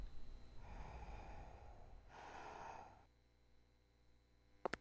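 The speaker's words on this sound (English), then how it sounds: "He's breathing." A monster breathes heavily outside a door in the horror game TERROBYTE: two long, rough, close breaths, a quiet pause, then a couple of sharp clicks at the end.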